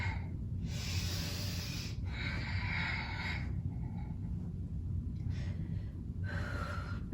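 Steady, audible breaths during a yoga core exercise: several long exhales and inhales hissing through the nose and mouth in a slow rhythm, close and clear over a low background hum.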